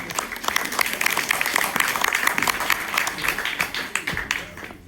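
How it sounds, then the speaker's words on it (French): A room full of people clapping, the applause building then thinning out toward the end, with some voices mixed in. "Applaudissez-les, s'il vous plaît."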